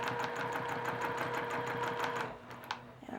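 A sewing machine stitches steadily during free motion quilting, its rapid needle hum running continuously and fairly close before slowing and stopping near the end, followed by a faint click.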